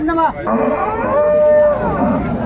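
Dairy cows and calves mooing at a cattle market, a loud close drawn-out moo with a rising and falling pitch, heard alone.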